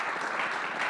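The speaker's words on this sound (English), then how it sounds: "Give please an applause now to all of our speakers." Audience applause for panel speakers at a European security and climate conference held at a central bank, a brief, full, steady burst of many hands clapping in a hall.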